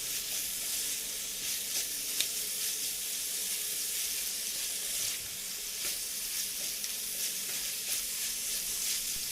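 Chicken in soy sauce with onion leaves being stirred in a pan, giving a steady, close sizzle and frying hiss with light scraping of the spoon throughout, no voices.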